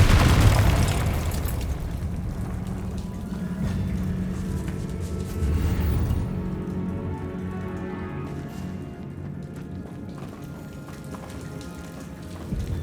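A Confringo fire spell explodes in the Hogwarts Legacy video game with a loud opening boom and crackle, followed by a rumbling, crackling burst around the midpoint and a lingering low roar that fades steadily.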